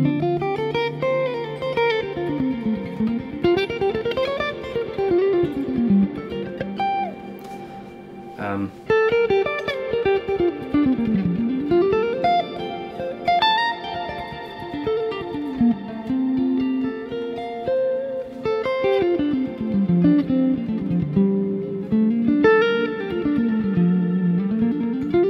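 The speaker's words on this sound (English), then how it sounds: "So that's using the plex verb setting, and then at the end I've also got a normal reverb to do the hold," Electric guitar played through a Fractal Audio FM3 on its Plex Verb reverb setting, with swelling, shimmering sustained notes and long rising and falling washes of ambience that stay continuous at moderate level throughout.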